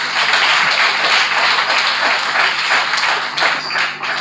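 Audience at a Historical Society of Nigeria colloquium clapping steadily, a loud dense wash of applause that carries on without pause, slightly thinning toward the end.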